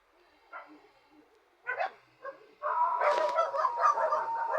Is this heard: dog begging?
yes